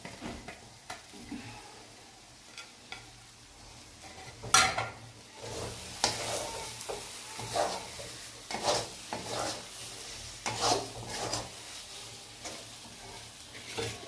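Fried eggplant, salted and turmeric-dusted, is stirred into dried Bombay duck fish in a pan, with scraping strokes of a spoon and a soft sizzle that swell after a quiet start, close and steady with no talk.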